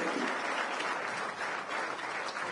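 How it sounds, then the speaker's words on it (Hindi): Loud, dense applause from an audience at a ceremony honouring a champion daughter, steady clapping filling the whole stretch without pause. "जोरदार तालियां करती"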